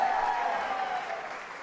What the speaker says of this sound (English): Now, I mean, Randall and Damon, they didn't get that kind of applause here.